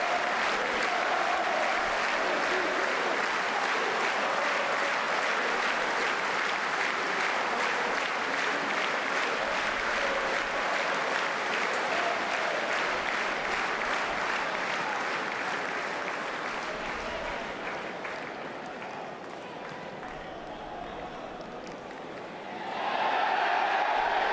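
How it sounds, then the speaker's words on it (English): Large football stadium crowd during a Freiburg versus Dortmund match, a sustained dense roar of disapproval aimed at the referee's assistant, easing slightly near the end before swelling again. "The crowd booing the referee's assistant"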